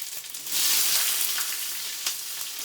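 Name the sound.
cumin seeds sizzling in hot oil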